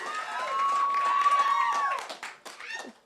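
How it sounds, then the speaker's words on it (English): A concert crowd at a peace benefit show cheers and applauds, a sustained wash of claps and whoops with a long held shout over it, then tapering into scattered bursts near the end. "That is a crowd that just absolutely loves what they're hearing, Jordan."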